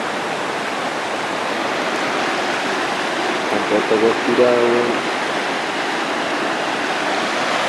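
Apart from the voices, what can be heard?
river flowing beside a campsite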